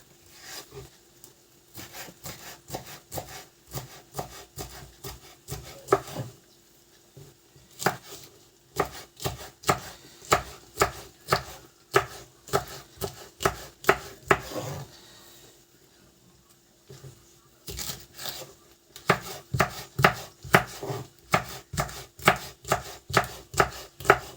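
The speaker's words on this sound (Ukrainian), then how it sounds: "Зараз я поріжу перчик." Bell pepper chopped with a knife on a cutting board, brisk rhythmic close knocks in fast runs with two short pauses, no voices.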